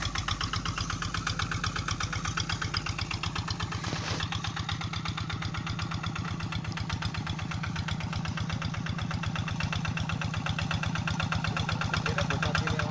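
A remote-controlled toy tractor's small engine runs steadily for the whole stretch, with a fast, buzzy, rattling putter like a little two-stroke at idle and no voices over it.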